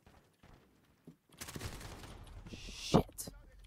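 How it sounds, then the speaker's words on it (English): Video game gunfire crackles in a dense burst of rapid shots, with one loud sharp crack standing out, while a player talks over the shooting. "I'm getting shot at now."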